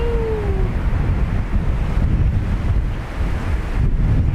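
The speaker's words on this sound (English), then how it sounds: "Crosswind is now gusting 24 knots." A gusting crosswind buffets the open air at Dublin Airport, a steady loud roar of wind noise rushing against the microphone, with no voices.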